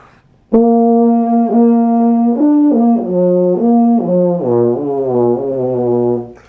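A brass instrument played with the tongue against the teeth plays a run of tongued notes, stepping downward in pitch, each attack slightly rough and blatty rather than clean.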